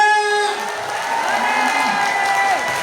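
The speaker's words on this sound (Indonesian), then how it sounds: "Saya pengen lihat dulu tepuk tangan. Tepuk tangannya mana?" A school audience of parents applauds and cheers continuously at a parenting event, with whoops and voices riding over the steady clapping, moderately loud.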